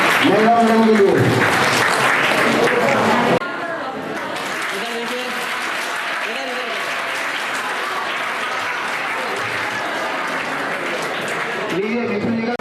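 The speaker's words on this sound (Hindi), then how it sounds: "एक बार विद्यालय परिवार का जोरदार ताली" A school audience breaks into loud, sustained applause that dips slightly partway through and carries on steadily. Voices of people speaking rise over the clapping at the start and again near the end.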